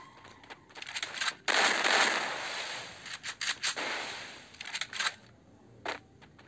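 Gunfire in a Counter-Strike one-versus-one tournament match: faint, sharp shots and rapid bursts crackle in uneven clusters, with short quiet gaps between them.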